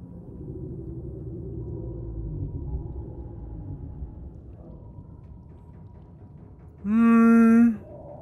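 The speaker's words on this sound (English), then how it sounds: "I think that's just Leviathan, like the big sea whale thingies." A Leviathan sea creature calling in the video game Subnautica, a loud, tonal, whale-like moan lasting under a second that rises over a low underwater rumble near the end.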